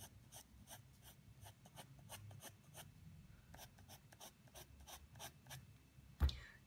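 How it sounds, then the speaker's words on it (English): Graphite pencils, an HB clicky pencil and a 2H, blending on paper for a pet portrait drawing, giving soft rhythmic scratchy strokes that repeat steadily and close up, ending with a brief bump. "then I blend with this HB clicky pencil, and then I blend further with the 2H"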